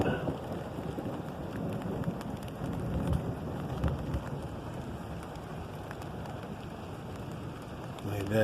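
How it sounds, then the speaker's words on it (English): Light rain patters steadily and softly as a fast-moving, darkening storm rolls in, with a faint wind hiss and a voice speaking over the wash of drops. "it's starting to rain a little bit."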